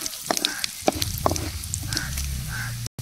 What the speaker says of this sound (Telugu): ఈ పోపులు వేసేసుకున్నాము